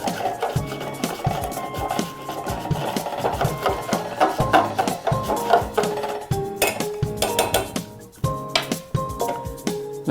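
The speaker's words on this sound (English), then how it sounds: "Mix it properly so that no lumps are formed. For that you can use a whisk." A whisk beats a thickening mixture in a cooking pot, producing rhythmic metallic scraping and clinking strokes, close and fairly loud, steady throughout.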